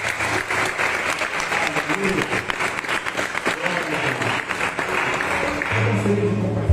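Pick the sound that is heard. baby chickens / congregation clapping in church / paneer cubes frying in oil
congregation clapping in church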